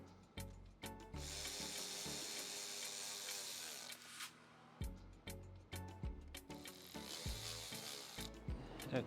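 Bolts are driven back into the engine pump of a 2008 Mercedes-Benz E350 4Matic during an oil cooler and filter housing job, with close bursts of power-tool whirring and ratchet clicks and clanks between them.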